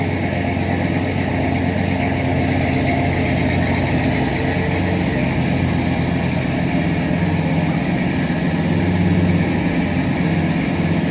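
A 1970 Oldsmobile 442 V8 idles after a cold start, a steady, loud, even rumble with no change in pace for the full length.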